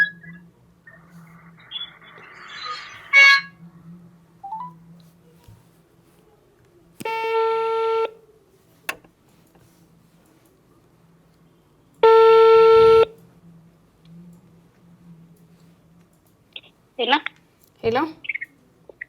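An unanswered phone call gives two long, evenly spaced ringback tones, loud and clear over near-silence, with a few short clicks and faint noises between and after them.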